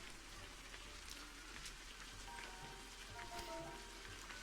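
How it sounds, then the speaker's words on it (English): Steady rain in the video game Expelled! hisses faintly and evenly throughout, with scattered soft drop patters and no talk over it. "Let's get out of this rain."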